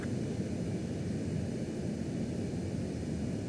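A steady, loud jet roar fills the air as a fighter aircraft makes its landing approach to a runway in Ace Combat 7. The noise stays continuous and even, with no voices.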